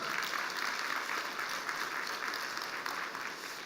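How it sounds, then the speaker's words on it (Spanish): A church congregation applauds during a sermon, many hands clapping together in a steady, full wash heard from within the room, holding level for several seconds without speech. "un aplauso para los que quieren ser más atrevidos en su dar"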